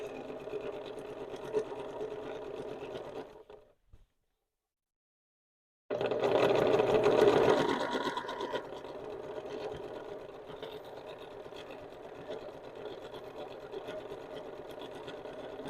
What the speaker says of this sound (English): Now we just line that all up along the edge and finish sewing it on.